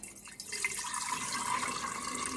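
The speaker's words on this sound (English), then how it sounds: "I'm going to pour this buttermilk into there" Homemade buttermilk, left after churning heavy whipping cream into butter, pours in a steady hissing, splashing stream into a strainer, close and continuous throughout.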